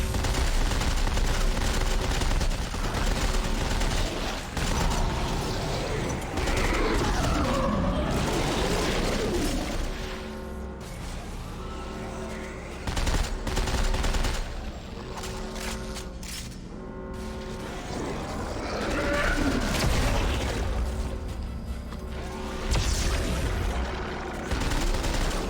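Burst rifle fitted with a Tesla coil firing in Dead Space 3, heard as loud continuous rattling volleys with mechanical crackle and low booms, easing off midway and then returning.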